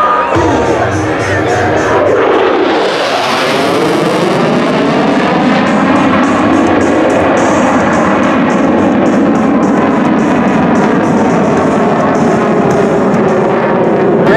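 A CF-18 fighter jet at full afterburner during a twilight airshow display at Abbotsford roars loudly with a sweeping pass, then a sustained thunderous rumble, with crowd noise beneath.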